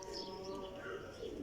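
Champion flying pigeons coo softly in a low, rolling murmur, faint against a quiet background.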